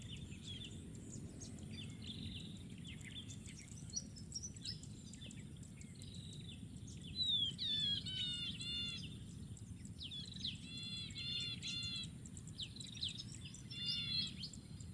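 Several birds call in a mangrove ecosystem, repeated bright chirping phrases in short bursts, some near and clear, over a steady low rumble and insect-like background hiss.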